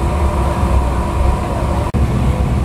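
A train stands at Ishwardi railway station in the rain, giving off a loud, steady rumble and hum with a brief dropout, close by and without voices.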